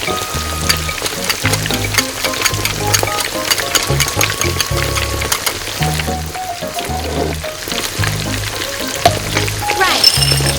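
Tomato puree sizzles and crackles in a hot pan for a Spanish seafood paella, a loud continuous frying hiss with stirring scrapes and background music.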